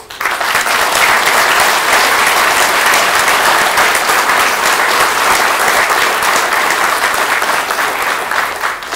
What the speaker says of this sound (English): I think we need to give these people a good round of applause